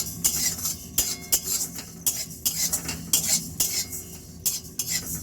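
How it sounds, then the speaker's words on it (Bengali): Cumin and Bengali five-spice are dry-roasted in a pan without oil, stirred with a metal utensil that scrapes and clinks against the pan in a quick, regular rhythm, close and fairly loud. "দেখুন জিরে আর 5 ফোড়ন শুকনো খোলায় একটু ভেজে নিচ্ছি।"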